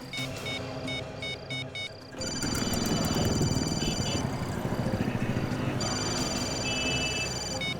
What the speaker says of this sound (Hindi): फोन की घंटी अंदर ही बज रही